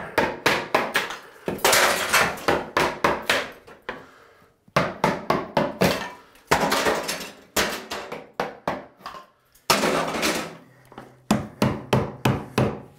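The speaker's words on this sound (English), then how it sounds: "when ceramic tile breaks like that" Ceramic tile is broken off a bathroom wall during a tub and shower renovation: rapid sharp knocks come in bursts, some followed by gritty cracking and crumbling, with short silent gaps between rounds.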